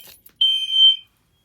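An FCI fire alarm panel under system test sounds a single loud, piercing electronic tone of about half a second, preceded by faint clicks and followed by silence.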